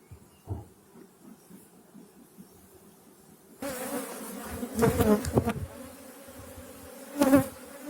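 Honeybees buzz among orange trees in a low, droning hum that swells suddenly louder partway through, with close passes rising and fading.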